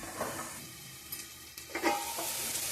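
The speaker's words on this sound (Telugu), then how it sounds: "ఉల్లిపాయ చూసారా చక్కగా మనకి వేగింది" Onions sizzle in a hot pan for a curry of fresh cashews and drumsticks, a steady close frying hiss broken by a few stirring scrapes and light clinks, with no voices.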